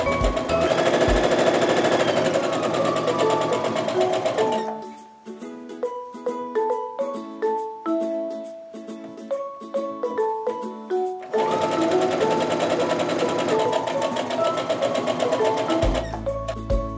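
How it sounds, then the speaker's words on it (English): A sewing machine stitching jelly roll fabric strips together for a rug, a loud rapid mechanical whir that pauses midway for a stretch of slower clicking and thumping, then resumes at full speed. "now I can sew from my top left to my bottom right and just do that all the way down"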